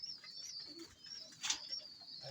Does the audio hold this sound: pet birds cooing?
yes